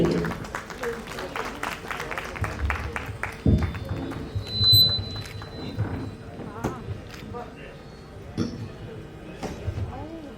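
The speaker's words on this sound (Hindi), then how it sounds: "इन सारे संगीतकारों के लिए बहुत जोरदार तालियां" Audience clapping for the musicians (harmonium, pad and dholak players) at a senior citizen council's annual day celebration in Prayagraj: a dense burst of claps in the first few seconds that thins out as a voice talks over a hall.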